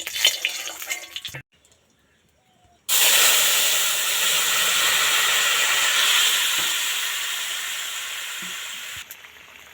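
A fig and small mourola fish curry cooks in a pan after a brief quiet pause, then a loud continuous hiss of bubbling and steam that slowly eases before stopping.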